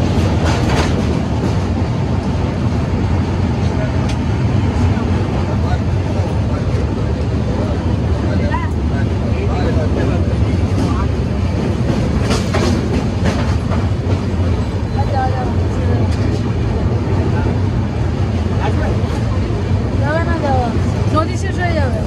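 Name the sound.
Coromandel Express train crossing the Krishna river bridge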